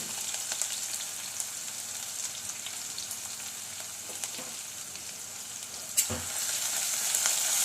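Ginger-garlic paste and green chillies with cumin sizzle steadily in hot oil, a close, continuous frying hiss with faint stirring and no voices.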